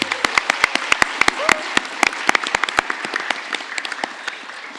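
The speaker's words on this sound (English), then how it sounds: "Let's cheer her on with a round of applause." A small crowd applauds, scattered sharp claps that start dense and gradually thin out, with a brief voice early on.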